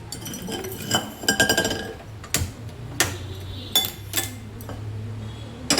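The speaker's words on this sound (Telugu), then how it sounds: "గిన్నె పెట్టుకున్నాను." Metal cookware clanks and clinks several times close by, a pot set down on a lit stove with sharp ringing knocks, followed by a steady low hum.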